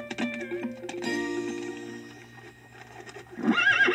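A horse neighs repeatedly, with hoofbeat clip-clop, on a farm-themed children's audio CD; the whinnies are close and clear, with a further loud neigh near the end.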